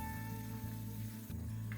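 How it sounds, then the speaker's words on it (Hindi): King prawns fry lightly in oil over low heat, producing a soft, continuous sizzle heard close up and alone, without speech. "अब ये कि हम प्रॉन को थोड़ा ऑयल के अंदर फ्राई करेंगे, बिल्कुल हल्का सा हम इसको फ्राई करेंगे।"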